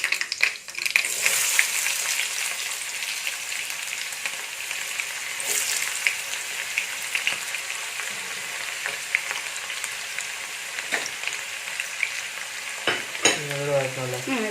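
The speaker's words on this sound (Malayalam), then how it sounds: "ഇനി ഇതിലേക്ക് ചെറിയ ഉള്ളി അരിഞ്ഞത് ഇട്ട് കൊടുക്കാം" Chopped shallots sauté in hot oil after mustard seeds have popped, for banana stem pickle: a steady, close frying sizzle with scraping stir strokes and a few utensil knocks, no talk.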